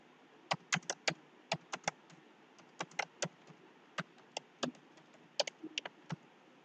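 Irregular clicky keystrokes on a computer keyboard, close and fairly quiet, come in quick bursts over a faint steady hiss with no talking.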